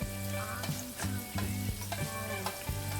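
Cumin, chunky chopped ginger and garlic fry in a pan with a steady bright sizzle, while a utensil stirs with rhythmic scraping strokes about every half second and a low hum runs beneath.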